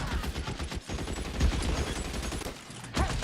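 Rapid gunfire in the 1940s detective game L.A. Noire, a dense run of close, sharp shots and automatic bursts with only brief gaps, loud throughout.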